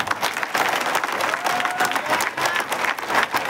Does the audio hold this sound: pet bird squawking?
no